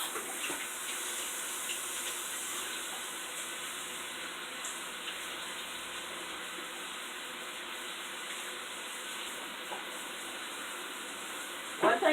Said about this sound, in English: Now I'm going to go over here to the sink and wash my hands.